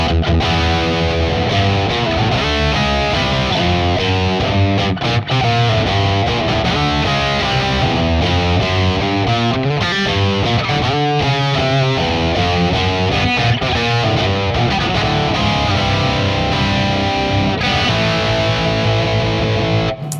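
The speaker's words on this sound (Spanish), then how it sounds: "A ver, ¿distorsión? Distorsión, un ratito de ruido." Electric guitar built in Chile from native Chilean woods, played through heavy distortion with the bridge pickup, a loud, continuous stretch of dense, saturated chords and riffs with no talking.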